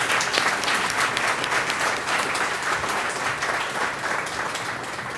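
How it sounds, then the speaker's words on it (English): An audience at the Swarthmore Athletics Hall of Fame ceremony applauds volunteers, a thick, even wash of many hands clapping that holds steady and fades slightly across several seconds. "So let's applaud them as well."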